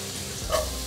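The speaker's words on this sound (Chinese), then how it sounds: "现在放入香菇" Shiitake mushrooms hit hot oil in a wok with minced ginger and celery, giving a short sizzle that swells briefly and then settles.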